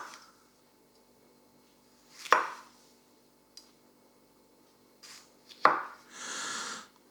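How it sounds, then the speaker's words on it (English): A sharp kitchen knife slicing through food on a cutting board, two distinct close chops a few seconds apart in a quiet room, the second followed by a brief scraping slide. "So let's try and chop it a little smaller."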